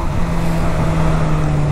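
A loud motorcycle engine drones steadily up close, a continuous low rumble with a constant tone over the short stretch.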